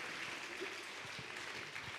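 An audience claps at an inter-collegiate expo on menstrual health management, a steady, even wash of applause that stays level and fairly faint throughout.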